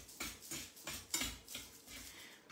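A spoon stirs choux pastry dough of flour cooked into butter and water in a saucepan, drying it out, giving rhythmic scraping and knocking strokes roughly every third of a second, close and fairly loud, with no talking.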